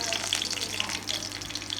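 Steady hissing sizzle of garlic frying in hot oil, continuous and fairly close, with a few brief crackles popping over the broadband hiss.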